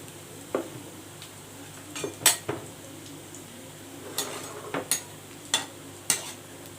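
Fenugreek fritters fry quietly in hot oil with a faint sizzle, broken by a handful of sharp utensil clinks and scrapes against the pan at irregular intervals.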